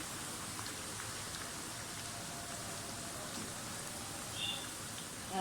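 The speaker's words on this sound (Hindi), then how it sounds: "इसी तरह से सारी प्याज जो है फ्राई करके रख लें।" Onions frying in oil in a pan over a flame, a steady dense sizzle and crackle running throughout at moderate level, with a slight swell near the end.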